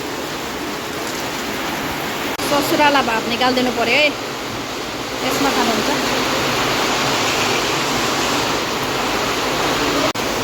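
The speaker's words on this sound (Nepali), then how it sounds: "पुरा पानी पर्दैछ है ल पानी पानी पानी पुरा पानी सुरु भयो" Heavy rain pours down in a dense, constant roar that fills the whole stretch, with someone talking over it for a few seconds in the middle.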